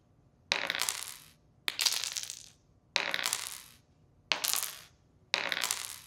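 Sound effect of gems breaking, played five times with random variations: bright crystalline shattering crashes with a ringing, jingling tail, evenly spaced and separated by silence.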